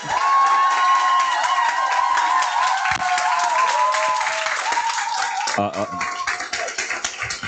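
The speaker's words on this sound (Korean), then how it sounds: "우리 박현근 강사님 모실 때 큰 박수 부탁드리겠습니다." Audience at a Nu Skin group meeting breaks into loud, sustained applause and cheering to welcome the main speaker onto the stage, dense clapping filling the room with a few shouts on top.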